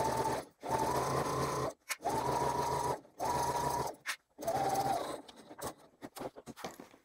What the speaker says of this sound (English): We're then going to sew along here at 1/4 of an inch